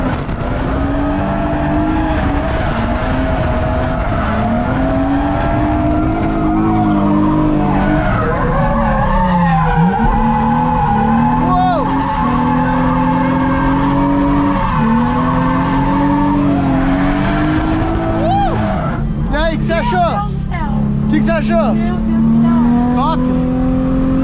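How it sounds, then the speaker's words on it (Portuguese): Car drifting on a practice track at Piracicaba, loud continuous tire squeal and skidding over a revving, accelerating engine for the whole stretch, close and sustained with wavering pitch. "eu vim pra Piracicaba só pra treinar drift de verdade"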